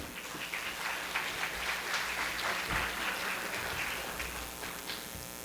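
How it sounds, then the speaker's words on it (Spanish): Congress attendees give a sustained round of applause, a broad, even wash of clapping from a large audience that holds steady before easing slightly toward the end. "Para él el aplauso bien fuerte."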